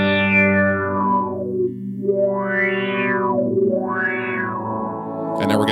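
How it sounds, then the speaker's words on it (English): A sustained sound runs through a Strymon NightSky reverb pedal while its resonant filter sweeps up and down three times, a whooshing wah-like motion over a steady, loud reverb bed. "so listen to the sweep"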